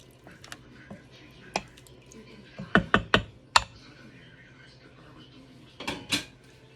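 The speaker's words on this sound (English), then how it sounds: "Stir it all in." Red beans being stirred in an Instant Pot, a scattering of sharp clinks and scrapes of a spoon against the pot, clustered in a quick run near the middle, close and fairly quiet.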